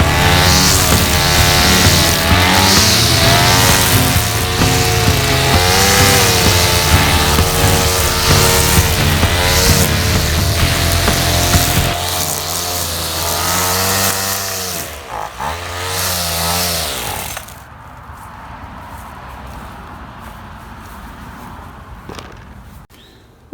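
A 2-cycle gas string trimmer runs loud and close, its engine buzzing with rising and falling revs while trimming, then easing down to a quieter idle before fading out.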